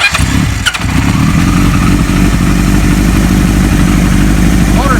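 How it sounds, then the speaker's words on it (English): A 1975 Kawasaki Z1 900 motorcycle starts with a brief clatter, then settles into a loud, steady, close-up idle rumble outdoors in cool weather. "Motor sounds nice."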